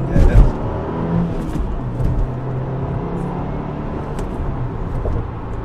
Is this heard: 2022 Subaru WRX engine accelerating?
yes